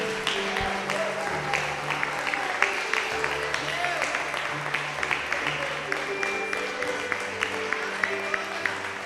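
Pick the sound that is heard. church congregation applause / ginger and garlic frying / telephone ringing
church congregation applause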